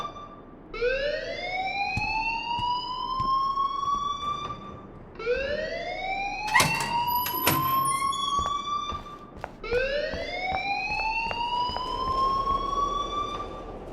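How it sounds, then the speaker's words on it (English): Fire alarm blaring in the Life is Strange video game, a loud rising electronic siren wail repeating in three long sweeps, with a brief clatter in the middle. "please turn off that alarm since that's your job"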